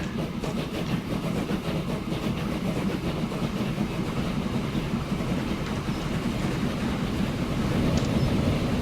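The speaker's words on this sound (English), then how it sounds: "There went our passenger train in the distance." A passenger train in the video game Transport Fever rumbles past in the distance in a continuous low roar with faint rhythmic clatter, steady throughout and swelling slightly at the end.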